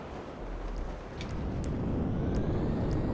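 A B-2 bomber in the video game GTA 5 Online gives a loud, steady, rumbling roar with a windy rush and a few faint high clicks, with no talking.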